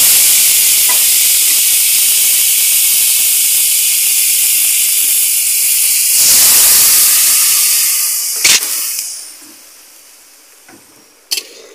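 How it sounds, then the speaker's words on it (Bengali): Water poured into a hot pan of cooking tomato and mango chutney sets off a loud, sustained steam hiss that slowly fades, followed by a couple of brief clinks of a utensil near the end. "এবার আমি জল ঢেলে দেবো।"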